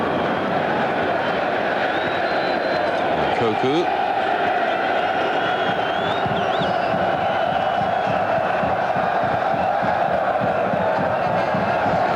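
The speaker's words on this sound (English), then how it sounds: "The crowd keep chanting his name." Football stadium crowd during a World Cup 1998 qualifier between the Netherlands and Belgium, a dense continuous roar with rhythmic chanting for a player, steady and loud throughout, with a commentator speaking over it.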